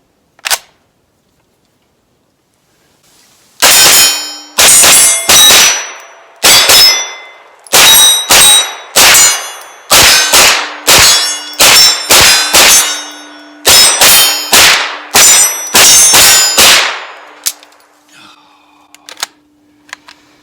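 A PTR 9KT MP5K clone fired on a close-quarters range, loud sharp gunshots in rapid bursts and strings of shots with brief pauses, ringing and echoing nearby, then casings tinkling as the firing ends.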